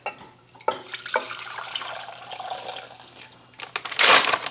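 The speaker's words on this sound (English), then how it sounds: "Carefully try and pour the sauce into this pot." Sauce is poured into a cooking pot, a continuous liquid splashing and trickling that swells near the end, close and fairly loud with no talking.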